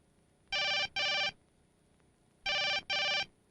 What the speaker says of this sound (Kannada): ಬೆಳಗಿಂದ ರಿಂಗ್ ಆಗ್ತದೆ.